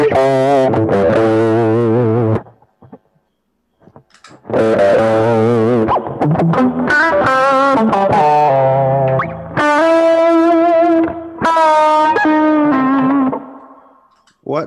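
Electric guitar played through reverb and a TS9 Tube Screamer overdrive, with distorted, echoing chords and sustained notes in phrases broken by short silences.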